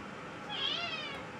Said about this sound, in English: I see the Amazing Beer Drinking Cat's coming over to join us today